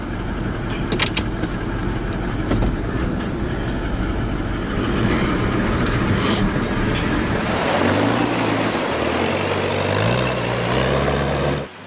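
A four-wheel-drive vehicle's engine revs steadily on a Cape York croc track water crossing, loud and continuous with splashing water, rising into a stronger drone toward the end.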